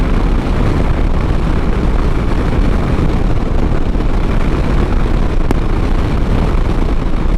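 Strong crosswind roars steadily and loudly past a rider on a Harley-Davidson Sportster 1200 Iron motorcycle, a dense, unbroken rush of wind noise mixed with the engine drone on an open road.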